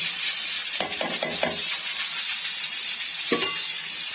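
Cumin seeds and curry leaves dropped into hot oil that is turning light golden, for a turnip and pea bharta: a loud, steady sizzling hiss broken by a few quick stirring scrapes, with no one talking.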